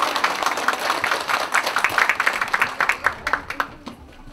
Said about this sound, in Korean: 큰 박수 주세요